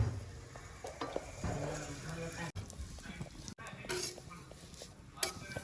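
Sev vermicelli roasting in hot ghee in a Gujarati home kitchen, with a soft sizzle and intermittent stirring scrapes running under continuous talk.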